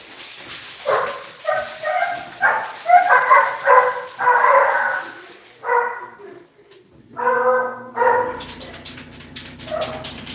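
Several dogs bark loudly in repeated bursts, mixing deep woofs with yips and whimpers, close by, with short pauses between volleys and no talk over them.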